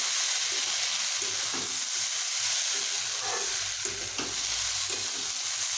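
Washed dalia (broken wheat) and dal fry together in a pan and get stirred, making a constant hissing sizzle with scraping stir strokes close by.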